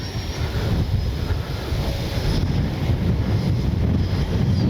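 A Freewing A-6 Intruder 80mm electric ducted-fan RC jet flies at half throttle with its gear down, giving a steady broadband whoosh roughened by outdoor wind buffeting the microphone.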